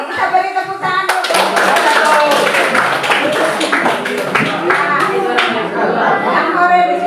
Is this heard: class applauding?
yes